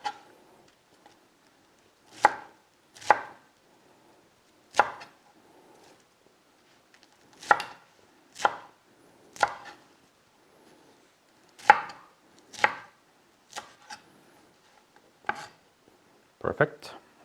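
A knife cuts washed lettuce for a Caesar salad on a board in about a dozen separate crisp chops, some in quick pairs, with quiet pauses between them and no talking.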